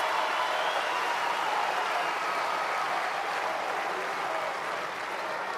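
Tennis spectators at a United Cup 2024 match applaud Olga Danilovic, a thick, continuous wash of clapping from the stands that holds at a steady level for several seconds.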